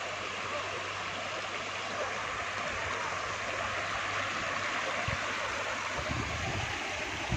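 Water rushes and gurgles continuously, a steady stream flowing down toward a waterfall at Kalyan Kedareshwar Mahadev in Sailana, Ratlam, with a low hum underneath and a couple of soft knocks.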